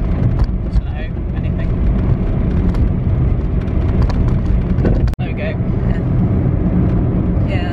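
Car driven by a learner driver, a steady close engine and road rumble inside the cabin throughout, with a brief sharp clunk partway through.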